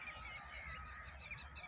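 Birds call in a village in the early morning, faint repeated honking and chirping cries over a low steady background.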